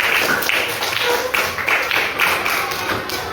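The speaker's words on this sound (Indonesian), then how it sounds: "Luar biasa, tepuk tangan." A sixth-grade class in an Indonesian elementary school claps together in quick, rhythmic bursts, loud and close, nearly covering the whole stretch with little or no talk.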